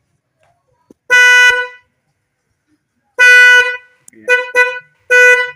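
A snail-type horn fitted to a new Honda Vario motorcycle sounds in loud, close blasts: one long honk, a pause, then another long honk followed by two quick short toots and a final blast.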